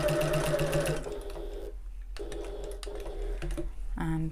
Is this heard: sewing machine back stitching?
yes